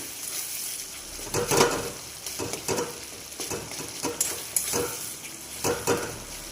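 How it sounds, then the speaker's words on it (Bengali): Tomato being stirred into spices in a frying pan while cooking mutton curry, with a low sizzle and repeated scraping strokes of a spoon against the pan in an irregular rhythm, close up and without talk. "টমেটোটা একটু মশলার সাথে মিশিয়ে নিয়ে"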